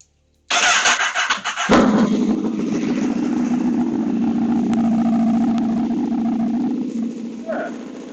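A delivery motorcycle fitted with a quieter exhaust fires up after a brief crank, then settles into a steady, loud idle that runs on for several seconds.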